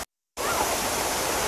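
The waterfall at Jurong Bird Park roars as a loud, steady broadband rush of falling water, starting abruptly after a brief silence.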